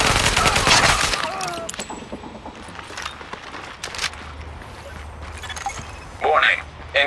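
Gunfire in the game Tom Clancy's The Division, with a dense burst of shots up front, then scattered lighter shots and a sharp late burst, under voices and ambient game noise.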